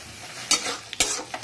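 Sugar being stirred and fried in a pan over a low-medium flame for a milk sweet made from colostrum milk: two sharp scraping strokes and a soft sizzle, close and clear, with no talking.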